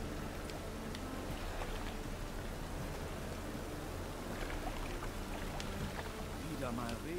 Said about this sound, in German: Wieder mal Regen.